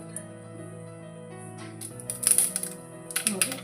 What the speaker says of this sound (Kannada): ಈಗ ಎಣ್ಣೆ ಕಾದತಿ, ಸಾಸಿವೆ ಜೀರಿಗೆ ಹಾಕ್ಕೊತೀನಿ.